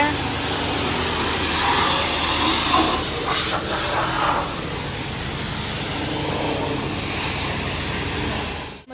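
A loud, continuous high-pressure car wash spray hisses steadily, with a brief shift in tone midway and a voice faintly in the background.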